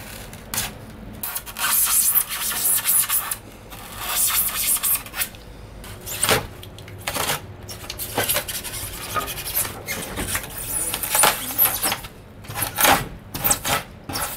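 Repeated scraping and rasping strokes as a blade cuts through soft, fibrous roof insulation up close, coming in uneven bursts with short pauses.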